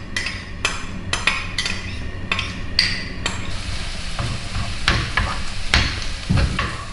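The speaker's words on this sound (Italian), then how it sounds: "In una padella mettiamo 3 cucchiai di olio, facciamo stufare la cipolla a fiamma moderata" Chopped onion stewing in olive oil in a pan over moderate heat, with a soft continuous sizzle and a run of quick scraping and clinking strokes of a spoon against the pan.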